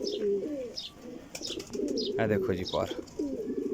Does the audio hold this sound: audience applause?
no